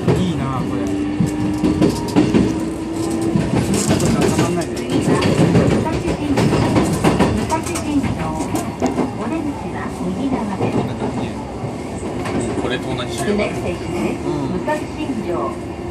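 A JR Nanbu Line E233-8000 series electric commuter train runs with a loud, steady interior rumble and rattling wheel clatter. Announcements and other voices can be heard over the noise.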